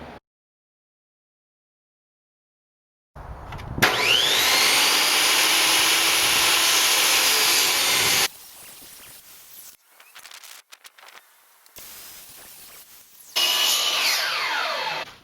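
A power saw cuts wood pieces for boat cockpit hatch frames, a loud sustained whine for several seconds, then a lower running tone and brief bursts, ending with another loud cutting pass.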